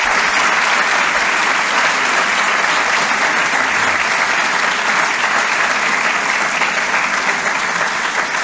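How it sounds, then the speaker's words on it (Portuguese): Sustained applause from an audience at a medical school clinical-cycle ceremony, a dense, even wash of clapping that stays loud and steady throughout, with no speech over it. "professora Dulce Madeira, a quem eu também peço uma salva de palmas"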